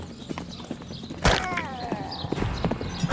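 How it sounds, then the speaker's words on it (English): Horses in hot pursuit in the video game Tales of Glory, their hooves clip-clopping quickly under game noise, with one sharp whinny rising partway through. "the horses are hot on my tail"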